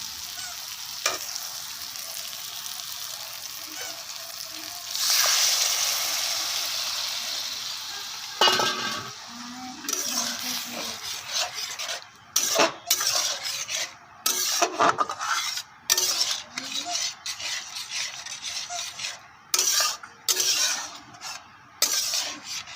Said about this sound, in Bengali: সিদ্ধ করা মটরটা দিয়ে দেবো।